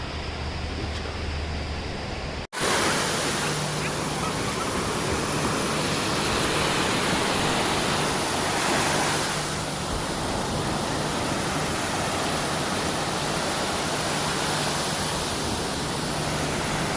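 Steady, loud broadband roar of beach waves at sunrise on the coast near Visakhapatnam, a constant close wash of surf that briefly cuts out early on and then continues unbroken.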